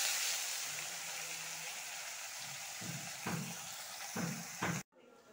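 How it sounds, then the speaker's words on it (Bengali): Chopped onions frying in a pan until reddish for a jackfruit and potato curry cooked with ghee, a steady broadband sizzle throughout with a few stirring scrapes near the end before it cuts off abruptly. "পেঁয়াজের কুচি, লাল লাল করে ভেজে নেব।"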